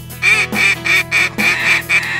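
Ducks quack loudly and close during a duck hunt over small water, a rhythmic series of about eight nasal calls in quick succession with brief gaps between them.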